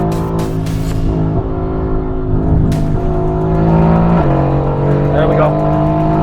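A Mercedes-AMG GT pulls hard under full throttle on track, its loud engine note rising in pitch and then dropping sharply at each gear change, about twice, with a close, continuous roar throughout.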